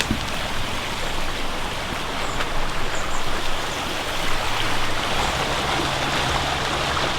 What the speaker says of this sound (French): Elle est sympa cette rivière.